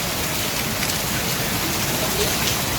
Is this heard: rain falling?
yes